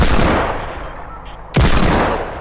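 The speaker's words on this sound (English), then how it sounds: "Oh, Tommy's shooting at some kids." Two loud, close gunshot blasts from a first-person shooter video game, each with a booming decaying tail, spaced about a second and a half apart.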